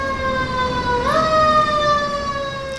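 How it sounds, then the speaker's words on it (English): A fire truck siren wails past on a busy San Francisco street corner, its steady tone bending upward midway as it nears, loud and close over traffic rumble. "there is another fire truck coming by"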